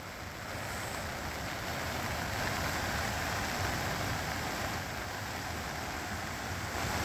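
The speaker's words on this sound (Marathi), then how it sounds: "सततच्या या पावसामुळे सातपुड्यातील सोन नदीला मोठा पूर आला" Floodwater of the swollen Son river in the Satpura hills of Nandurbar rushes in a steady, dense roar after continuous heavy rain, broadband and unbroken for several seconds with no voices.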